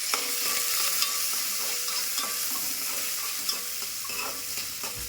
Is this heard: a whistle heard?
no